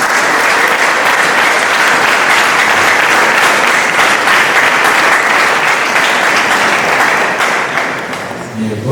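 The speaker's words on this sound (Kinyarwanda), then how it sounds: "tuyikomere amashyi" A church congregation applauds during a service with a choir, the clapping dense, loud and sustained throughout before thinning slightly at the end.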